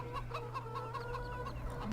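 Chickens in the video game Farming Simulator 17 cluck and murmur softly and steadily at close range, with a low hum running underneath and no speech.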